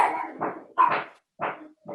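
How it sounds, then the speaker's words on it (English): A dog barks and whimpers in several short, close bursts separated by brief pauses, with no talking over it. "Is someone beating up a dog? Yeah, who's got the dog?"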